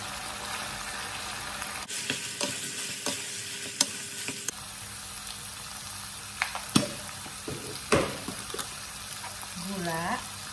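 Corn tipped into tuna in a frying pan and stirred, with scraping utensil strokes and knocks over a steady low sizzle; a voice speaks briefly near the end.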